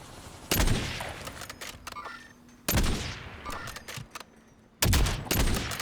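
An HDR sniper rifle fires in Call of Duty Warzone: three loud, separate cracks, each with a long echoing tail, spaced about two seconds apart with quieter crackling between.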